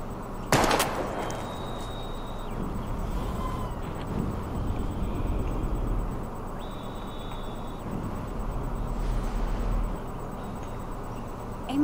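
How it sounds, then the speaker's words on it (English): A single sharp gunshot aimed at bottles in the game Life is Strange rings out near the start, followed by a steady, constant ambient hum with no further shots. "We're gonna shoot all these bottles without wasting a single bullet."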